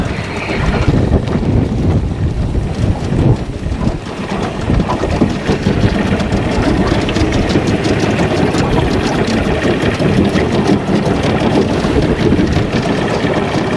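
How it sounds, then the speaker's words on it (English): A boat outboard motor running in reverse, a steady loud rumbling drone that continues unbroken and close with wind buffeting, no voices. "Something about putting this motor in reverse."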